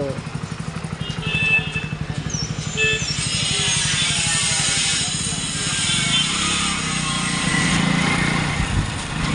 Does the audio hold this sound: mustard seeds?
no